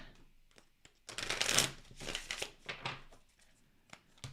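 Tarot cards are shuffled by hand, a burst of rapid riffling flutter followed by several shorter, softer riffles and taps, close and quiet.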